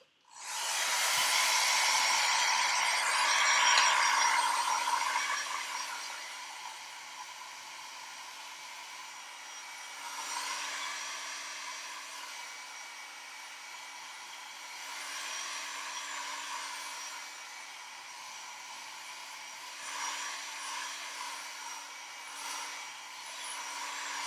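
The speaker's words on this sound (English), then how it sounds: "I happen to have a blow dryer. I'm going to dry that a little bit." A hair dryer drying paint blows steadily at close range with a constant airy whine, its loudness shifting slightly as it moves, running without pause throughout.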